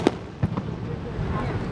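Fireworks pop in two or three sharp bangs over about a second and a half, followed by crackling rumble, at moderate distance under crowd chatter.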